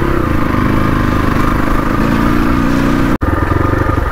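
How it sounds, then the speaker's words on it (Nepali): A motorbike engine runs with a rough, fluttering idle that stutters and sputters as if it will not start properly, close and loud throughout, with one sharp momentary dropout near the end. "बाइक त किन भुर भुर भुर भुर भुर भुर भुर गरेको"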